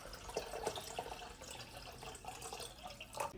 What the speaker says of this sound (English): Then add 2 more cups of water.